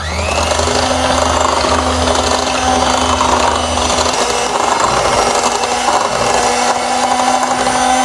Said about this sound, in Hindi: फिर इसको मैं बीट करूंगी